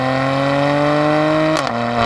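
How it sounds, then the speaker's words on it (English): A 2019 Mercedes-AMG C43 wagon with a six-cylinder engine revs up loud and close, its pitch climbing steadily before a sharp shift drops it back down. "I actually really like the sound of the 6-cylinder."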